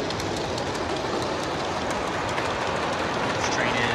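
A long G-scale model diesel train with 3D-printed cars, running on track at a railroad hobby show, rolls past as a steady, dense rumble with faint clicking, close and continuous throughout.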